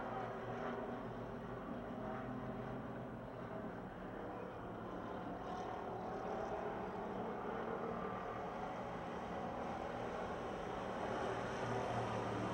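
Race cars roaring down the back straight at Pennsylvania Motor Speedway near Pittsburgh, a steady, fairly distant engine drone that swells slightly toward the end, with no talk.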